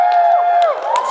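Audience at a 2014 dance show cheering and whooping loudly, a dense wash of sustained shouts with rising and falling pitches, heard alone without speech.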